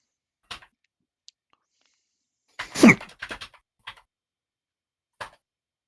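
A single sharp sneeze bursts out in the middle of an otherwise quiet stretch, surrounded by a few scattered soft clicks and small noises.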